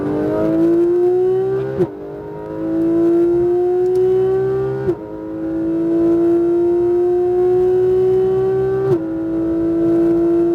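A Porsche 911 GT3 RS (991) engine on a race track lap, loud and close, with high revving tones rising steadily between three abrupt gear shifts. No talk.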